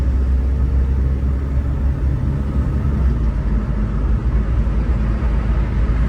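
A 660cc Suzuki Alto engine pulls steadily under light acceleration, a continuous low hum and rumble heard from inside the car, with no talk.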